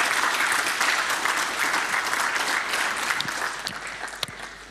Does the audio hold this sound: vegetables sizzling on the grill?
no